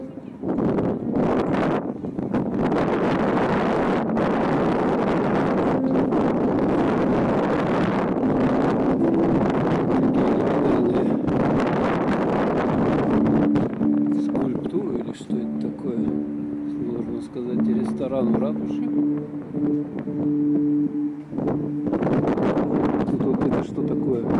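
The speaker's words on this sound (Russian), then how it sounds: "ветер дует" Steady wind blasts across the microphone throughout in Minsk's historic centre, a constant loud rumble with faint tonal sounds appearing in the latter half.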